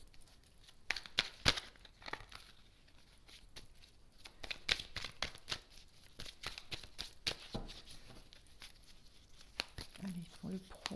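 Tarot or oracle cards being shuffled and laid over one another on a table, giving soft papery crinkles and sharp slaps in irregular bursts, close and fairly quiet, with a little talk now and then.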